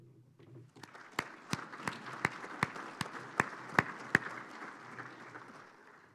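Short burst of audience applause in a conference room at a soybean summit, a scattering of claps building to a few loud, distinct hand claps before fading out, fairly near and moderate in volume.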